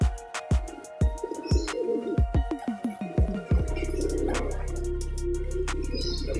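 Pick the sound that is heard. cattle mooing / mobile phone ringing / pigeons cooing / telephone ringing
pigeons cooing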